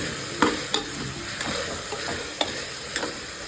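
Chilli powder and garam masala fry in a pan with a soft continuous sizzle, broken by several sharp scrapes and taps of a spoon stirring nearby.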